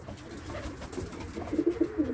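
Pigeons coo softly inside a breeding loft housing Zamojski pigeons, the low throaty calls overlapping in a steady murmur that swells into several louder, closer coos toward the end.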